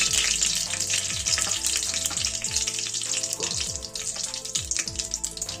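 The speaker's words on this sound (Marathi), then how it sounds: "कढई ठेवली आहे तापायला। त्यात तेल टाकलाय, मोहरी टाकली आहे" Mustard seeds crackle and fry in hot oil in a wok, a steady loud sizzle filled with rapid popping and spatter, with some clinks from a utensil and no talk.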